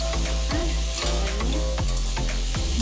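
Potatoes and onions frying in a pan with chili powder, turmeric and salt, a continuous loud sizzle with rhythmic scraping strokes of a spatula stirring every half second or so, close and without speech.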